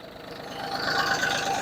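Yanmar FF205D all-wheel-drive Japanese mini tractor diesel engine running steadily and revving up slightly, a continuous close mechanical rumble with no other sounds over it.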